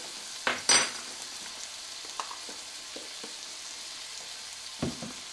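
Garlic sizzles quietly in hot oil for a beef and cabbage stir fry, a steady faint crackle with a couple of sharper clinks and scrapes near the start and end.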